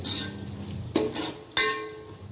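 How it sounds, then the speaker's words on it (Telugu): Fenugreek leaves frying in a pan, a soft steady sizzle broken by two sharp stirring scrapes, close and fairly quiet. "మెంతికూర ఫ్రై కానియాలి"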